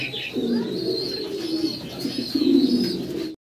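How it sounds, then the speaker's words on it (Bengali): A pair of large Bombay pigeons coo close by in low, rolling phrases that repeat several times, with faint chirps above and a brief knock at the end. "খুব চমৎকার এক জোড়া বোম্বাই কবুতর বিগ সাইজের ভিতরে আছে"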